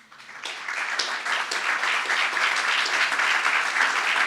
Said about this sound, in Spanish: ¿quién le quiere dar un aplauso al Señor?